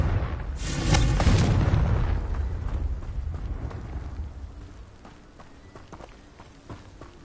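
A Confringo blasting spell bursts in Hogwarts Legacy with one loud, near explosion early on, then rumbles away into quieter scattered footsteps and clatter.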